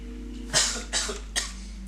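Three separate coughs from a person playing a video game, close and fairly loud, spaced about 0.4 s apart over a low steady hum, with no talking.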